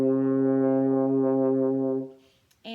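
A French horn sustains an open low G for about two seconds, steady and full with rich overtones, then stops, leaving a brief breathy rustle.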